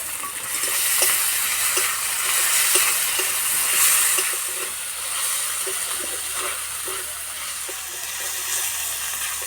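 Ginger-garlic paste sizzling and frying steadily in a pan for jackfruit curry, a continuous bright hiss with soft stirring taps throughout, close and fairly loud, no voices.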